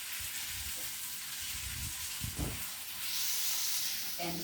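Blended onions and meatballs cooking in a pan, a soft continuous sizzle and hiss with a few faint scrapes, the steam swelling louder toward the end, no talk.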